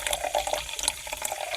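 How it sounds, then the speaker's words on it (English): A fizzy drink is poured into a wine glass close up, a steady splashing stream with bubbling and gurgling throughout and no talk. "And I'm going to pour it into a wine glass."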